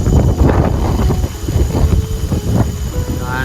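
Strong gusts of wind buffet the microphone at about 200 metres on a hilltop near Danau Linau in Bangka Tengah, a loud rumbling roar that rises and falls throughout.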